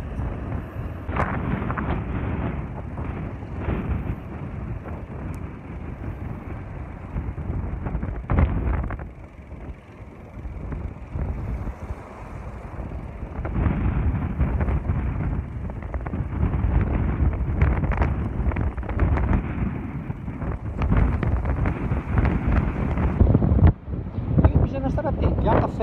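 Storm wind at sea during a fishing trip, heavy gusts buffeting the microphone in loud, uneven bursts with a deep rumble of water, while someone talks excitedly over it.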